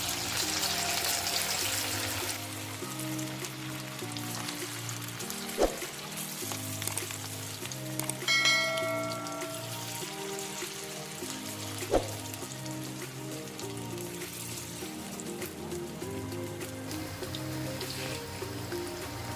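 Chicken pieces for chicken 65 fry in hot oil, giving a steady soft sizzle beneath louder background music, with a few sharp clicks along the way.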